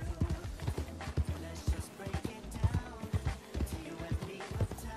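Horse hooves in Red Dead Redemption 2, a tired horse trotting with a steady clip-clop rhythm of repeated thuds, close and fairly loud, mixed with game ambience.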